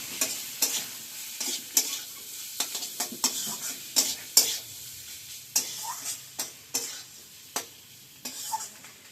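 Fried potato and eggplant being stir-fried in a pan for a Bombay duck (lote fish) curry, with a spatula scraping in quick, irregular strokes over a steady soft sizzle, close and moderately loud.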